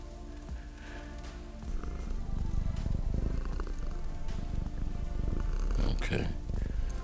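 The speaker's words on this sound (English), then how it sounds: "Sounds like a big cat purring" A synthesized big cat purrs in a steady, low, looping rumble with a slightly rough texture, close and continuous throughout.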